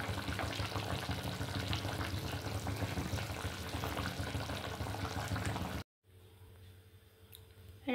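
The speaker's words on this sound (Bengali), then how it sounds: "আর এই তরকারিটা যখন এরকমভাবে ফোটে, আওয়াজটা হয় না, খুব ভালো লাগে শুনতে।" Egg curry bubbling at a boil, a dense steady wash of simmering and sputtering that cuts off abruptly near the end, leaving quieter faint clinks.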